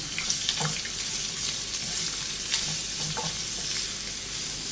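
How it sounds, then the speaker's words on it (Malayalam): Chopped onion and carrot with bread for bread uppumavu being stirred and sautéed in a pan, a steady close sizzle broken by scraping strokes of the spoon throughout. "ഇത് നമുക്ക് നല്ലപോലെ ഇളക്കി ഒന്ന് വഴറ്റിയെടുക്കാം."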